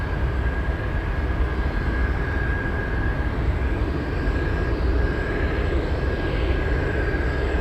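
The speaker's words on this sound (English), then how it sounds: "Oh, 777 on the move." A Boeing 777 airliner taxis at Anchorage airport, its engines giving a steady, loud rumble with a thin sustained whine running through, unbroken and close throughout.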